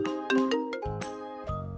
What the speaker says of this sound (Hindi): तबे एक दिन उनकरा घरे एगो फोन आवेला।